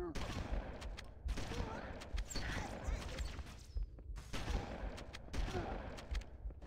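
Rapid bursts of gunfire from Halo: Combat Evolved rattle in repeated volleys with short pauses between them, fairly loud and continuous in a combat scene.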